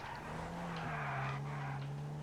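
A fast car in GTA Online, its engine holding a steady, fairly quiet drone with faint tire noise, running continuously for a couple of seconds with no talk.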